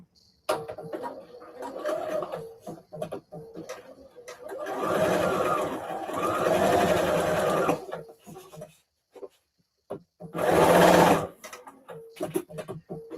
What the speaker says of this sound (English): This feels weird, the way I'm trying to sew this.